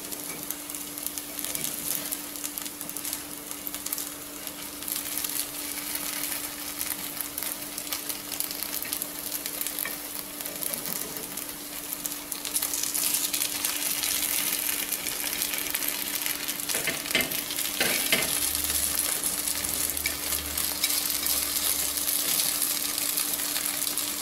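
Pearl millet kuzhi paniyaram frying in oil in a paniyaram pan, giving a steady close sizzle that grows louder and denser about halfway through, with small scattered crackles and no talking.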